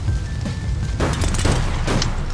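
A vehicle blowing up in the online game APB, a single loud boom with a crashing burst that rises sharply, over steady background noise.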